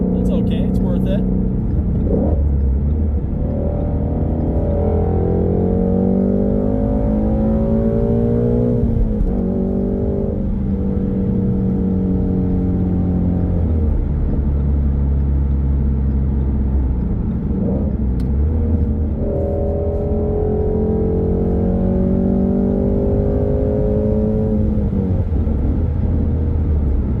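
Ford Mustang Shelby GT350 engine pulling hard through the gears, loud and close from inside the cabin, with rising engine tones that dip at each shift and climb again under a steady low rumble; a person talks over it.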